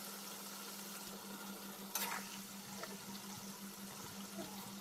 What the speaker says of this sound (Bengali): তেলের মধ্যে একদম সুন্দর করে ভেজে নিচ্ছি। এই দেখো আবারও নাড়াচাড়া করে দিচ্ছি।